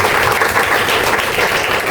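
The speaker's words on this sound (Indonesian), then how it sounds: "Tepuk 1, tepuk 1, tepuk 3, tepuk 2, tepuk 1, 2, 3, tepuk banyak" A primary school class clapping a counting rhythm game together, a steady dense patter of many hands filling two seconds with no pause.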